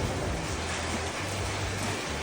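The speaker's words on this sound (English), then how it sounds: "Huge storm here in Bali right now. Big rainstorm, lots of wind." Heavy rain pours steadily during a windy storm in Bali, a dense, continuous wash of falling water with a low rumbling undertone, unbroken and fairly loud throughout.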